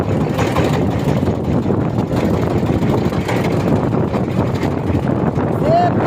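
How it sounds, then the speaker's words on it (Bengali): Strong wind roars steadily over a fishing boat at sea in stormy Bay of Bengal weather, a loud continuous rushing that buffets the microphone, with an engine hum and faint voices underneath. "যেমন বাতাস এমন তুফান"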